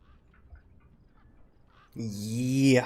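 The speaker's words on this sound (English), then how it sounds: "Then, I heard them. Gang birds." Harsh, honking bird calls of gang birds in the video game Beyond a Steel Sky, rising loud and close at the end after a quiet stretch with faint rustles and soft sounds.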